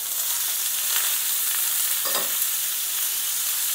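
Drained broccoli being stir-fried in a pan over low gas, a steady even hiss of frying with one brief stirring scrape, no voices.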